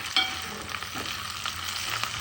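Garlic ginger paste roasting in a hot pan for a capsicum curry, giving a steady close sizzle and frying hiss with a few stirring scrapes, no voices.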